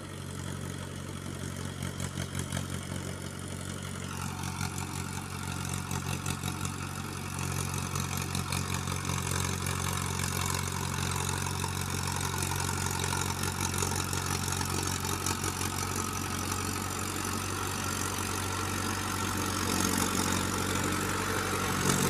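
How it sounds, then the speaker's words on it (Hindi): A Mahindra Arjun 555 tractor engine runs steadily pulling a rotavator without heavy load, a continuous close droning rumble with mechanical clatter throughout and no voices. "रोटावेटर पे लोड फ्री चला है ट्रैक्टर बिल्कुल।"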